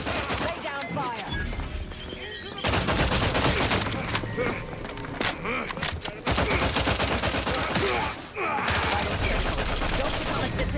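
Dense, loud gunfire rattles almost without pause in The Outer Worlds 2, with overlapping rapid bursts and impacts filling a busy sci-fi combat scene.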